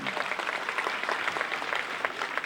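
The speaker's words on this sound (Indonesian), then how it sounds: "Kita berikan tepuk tangan kepada Ibu Sofyan Jalil." Audience applause at a school construction ceremony in Bireuen, Aceh, steady dense clapping from a crowd filling the whole stretch, moderately loud with no voices on top.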